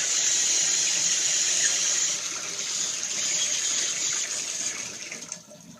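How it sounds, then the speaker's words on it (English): Water running from a leaking bathtub diverter valve, a steady hissing gush that continues unbroken, close and fairly loud, easing off slightly near the end with no talking. "that water is going right back behind that diverter valve, leaking out under the tub"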